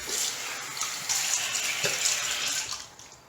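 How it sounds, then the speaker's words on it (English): Water runs steadily from a tap while rinsing off after a wet shave, a soft continuous hiss and splash with slight fluctuations, fading near the end, with no voices. "All right, rinse off and see if I need a third pass."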